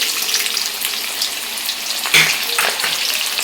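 Whole cumin, green chillies and onion drop into hot refined oil, throwing up a bright, crackling sizzle with a sharper burst partway through, close and without voices.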